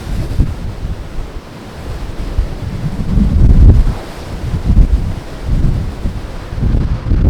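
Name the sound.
strong wind and rough sea on a ship's top deck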